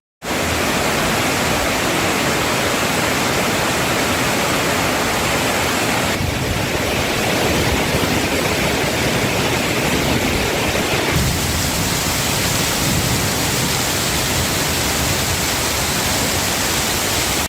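Summer rain falls steadily in the Peerumedu area of Kerala, a dense, continuous hiss that fills the whole stretch without pause.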